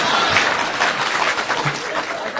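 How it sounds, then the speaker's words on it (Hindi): Audience applause at a Hindi poetry recital, a steady wash of many hands clapping through the whole stretch, with some crowd murmur mixed in. "शशिकांत तुम भी ताली बजाओ।"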